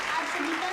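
Brief applause from the audience at a Hindi poetry recital, a soft, steady patter of many hands that fades slightly toward the end.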